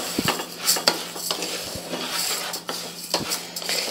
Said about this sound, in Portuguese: Então, agora eu vou fritar.